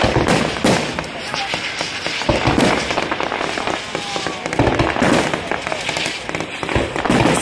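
Fireworks display at the 2017 Dunnville Mud Cat festival, dense continuous crackling and booming bursts overlapping throughout, loud and close, with crowd noise underneath.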